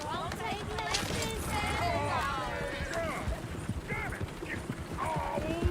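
Horses gallop in Red Dead Redemption 2, a rhythmic clip-clop of hooves with a whinny, heard under someone talking throughout.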